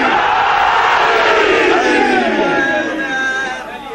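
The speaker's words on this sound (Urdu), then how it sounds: "وہ تاریخی نعرہ کہ جبریل گواہی دے کہ کہیں علی والے بیٹھے ہیں, نعرے حیدری" A large religious gathering at a Muharram majlis roars the Naara-e-Haidari chant together, a loud sustained crowd shout that swells and then slowly fades over several seconds.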